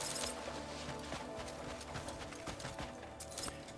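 Horse hooves clip-clop steadily in the open-world video game Crimson Desert, a continuous run of hoofbeats under game ambience with no talk.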